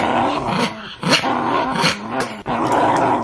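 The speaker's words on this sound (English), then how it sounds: "Got a dog fight." Dogs fighting at home, close and loud, with continuous snarling growls broken by sharp yelps and snaps in rough bursts.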